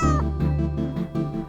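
A kitten gives a short meow followed by a few softer, mewing cries in quick succession, close and fairly loud, with no talk.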